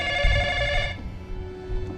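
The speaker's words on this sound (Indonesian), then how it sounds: "Tak lama kemudian sebuah telepon berdering." A telephone rings with a single bright electronic trill that stops after about a second, leaving a faint tone.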